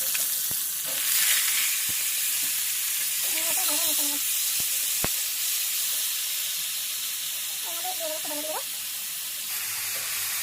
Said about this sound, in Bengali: মশলা ভালো করে হয়ে গেছে, ভালো করে ভাজা হয়ে গেছে। এরপরে কচুটা দিয়ে দেবো।